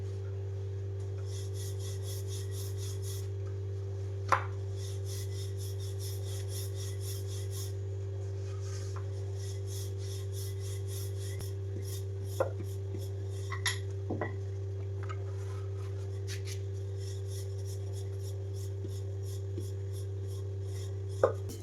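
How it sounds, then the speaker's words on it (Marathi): Mango puran poli (amba poli) dough being rolled flat with a rolling pin: soft, steady rubbing strokes with a few light knocks, all under a constant low electrical hum. "आता पोळी लाटून घेते"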